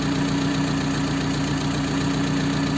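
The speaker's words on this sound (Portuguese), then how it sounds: "Motor bem quietinho. O que está fazendo um pouquinho mais de barulho é o silencioso traseiro lá do escapamento, que ele está furado" Car engine idles steadily after rod and main bearing replacement, a continuous even hum with a faint exhaust rasp from a rear muffler that has a hole, loud and alone with no talk.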